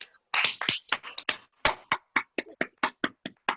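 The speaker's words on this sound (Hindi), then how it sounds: "एक जोरदार तालियों से गीता मैम का धन्यवाद करते हैं" A small group claps in thanks for Geeta ma'am, a handful of sharp, distinct hand claps that are loud at first and then thin into a slower, sparser patter of single claps against silence.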